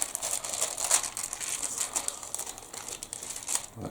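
Plastic film is peeled off a Tesco sweet BBQ pulled pork and cheesy mash ready meal, giving close, continuous crinkling and crackling with small sharp snaps throughout.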